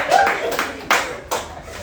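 A comedy club audience at a late-night variety show gives a few scattered, sharp claps, some loud and close, after a moment of talk at the start.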